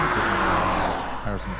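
Subaru race car at a lakeside hillclimb event, its engine a steady close roar throughout a brief moment, with a commentator's voice over it.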